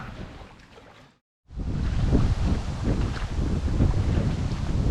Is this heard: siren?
no